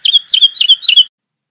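High-pitched bird chirps ring out in a quick rhythmic series of about five bright, clear calls lasting a second, close and loud, then stop into silence.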